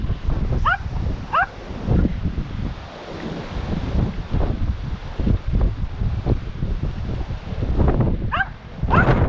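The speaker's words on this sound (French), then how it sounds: "Je vois que tes chiens, ils adorent les gouilles, hein." Several dogs outdoors give short barks and whimpers, moderately close, over heavy wind buffeting against the microphone.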